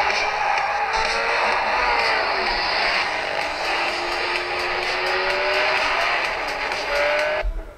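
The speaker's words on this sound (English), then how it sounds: "Just do a little quick race here at Asphalt 6, gives you guys a little preview." Racing car engines from the mobile racing game Asphalt 6 played on a Sony Ericsson Xperia Play, a steady synthetic engine drone with rising pitch sweeps held loud and continuous throughout, no talking.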